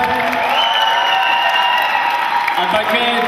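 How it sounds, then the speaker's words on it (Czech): Campers at a Czech summer camp applaud and cheer, a continuous loud wash of clapping with whoops and voices mixed in, while a speaker talks over the crowd. "Takže obrovský potlesk."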